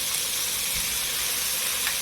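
Chicken pieces, potatoes and spring onions fry together in a pan, producing a continuous even hiss and sizzle at moderate level with no talking.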